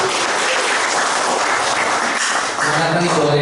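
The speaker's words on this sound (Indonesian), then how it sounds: "Tepuk tangan dulu buat Ibu Aryani." Congregation applauding at a Sunday worship service of a Baptist fellowship, dense steady clapping filling the room throughout, with voices talking faintly underneath.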